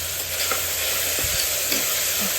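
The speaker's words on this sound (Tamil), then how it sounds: "தக்காளியை நல்லா வதக்கணும்." Tomatoes sautéing in a pan for a snake gourd kootu, a steady close sizzle with occasional soft stirring scrapes, no voices.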